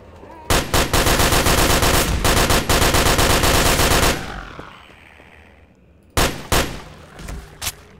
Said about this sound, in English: You can always rely on the good old Tommy gun.